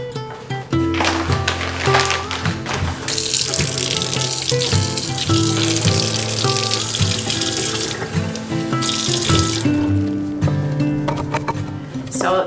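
Tap water runs into a kitchen sink while garlic scapes are washed, with loud bursts of splashing flow, clinks and handling noises over a background of tonal music.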